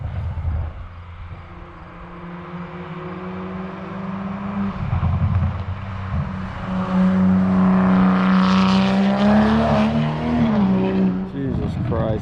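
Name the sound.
Toyota Supra MK5 Tomei Type-R single exit exhaust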